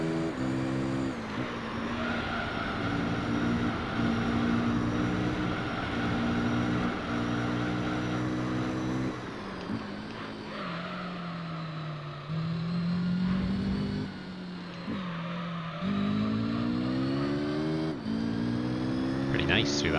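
Race car engines in Gran Turismo 3 career mode race, a loud continuous drone that climbs and falls in pitch through gear changes, with someone commentating over it.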